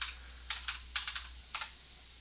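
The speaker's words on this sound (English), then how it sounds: "And if I just type tiled editor," Typing on a computer keyboard, three short quick bursts of crisp, close key clicks separated by brief pauses, alone over faint background hum.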